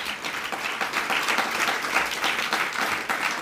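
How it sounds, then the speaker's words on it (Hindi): An audience claps continuously at a spiritual discourse, a dense steady patter of many hands at moderate distance, with no voices over it. "बजाना तो अच्छे से ताली बजाओ"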